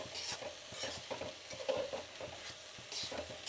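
Cabbage fry with peanut powder is stirred in a pan, a spoon scraping in a quick repeated rhythm over a soft, close sizzle.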